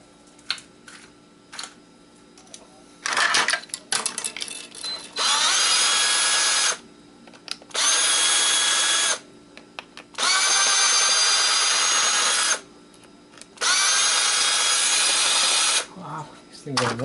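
Power tool spinning out bolts from an Xbox 360 power supply with aluminum heat sinks, running in four sustained whirring bursts of a few seconds each, separated by short pauses with faint handling noise.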